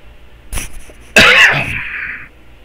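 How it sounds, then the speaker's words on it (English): A single loud, explosive cough close by, preceded by a short sharp breath and trailing off into a hoarse rasp. "I'm fighting a cough here"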